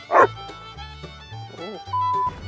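A pet dog whimpers and gives a short yip indoors, mixed with brief human voices and a short tone, close and moderately loud.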